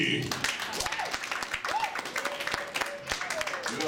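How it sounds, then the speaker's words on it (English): Light, scattered clapping from a comedy roast audience sits low under a voice speaking over it, with a few sparse claps rather than a full ovation. "I understand the light applause"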